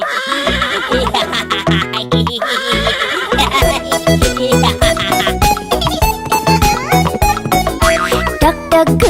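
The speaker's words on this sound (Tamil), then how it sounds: "கனைக்கும் குதிரை செல் செல் செல்" A horse neighs repeatedly within a bright, busy children's rhyme song, the whinnies riding loud over steady music and a clip-clop beat.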